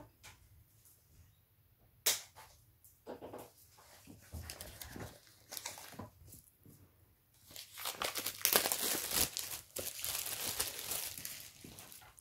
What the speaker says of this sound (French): il est encore sous papier film. Je vais l'enlever tout de suite.